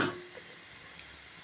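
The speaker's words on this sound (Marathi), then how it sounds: "मिरसांग घालतास लसूण तिके भाजो चूर ब्राउन मिसळला" Garlic and red chilies frying in a pan give off a steady broadband sizzle, louder at the very start and then settling into an even crackling hiss.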